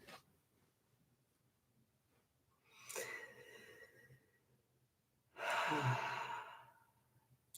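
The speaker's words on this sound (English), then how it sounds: "Slow the breathing down a little deeper, a little slower than usual." Two slow, deep breaths sound close and soft, each a long airy exhale or sigh, set apart by quiet pauses during a guided heart-focused breathing meditation.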